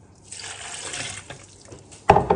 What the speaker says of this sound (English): And here I'm gonna add half cup of water